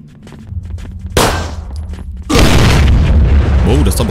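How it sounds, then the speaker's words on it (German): A sudden loud boom bursts out as a barrel explodes in the video game Zompiercer, followed by a sustained roaring blast of explosion noise, with a voice talking faintly beforehand. "Oh, das ist aber schnell explodiert, das Fass"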